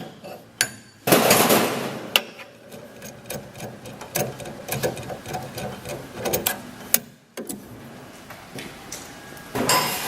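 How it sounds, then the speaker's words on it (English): A 7/8 inch wrench works the nut on a steam trap hose connection, giving a run of sharp metallic clicks, clanks and ratcheting knocks close by, uneven in rhythm, with a short pause before the clatter resumes. "he's again going to use a 7/8 inch wrench to loosen the nut on the hose connection"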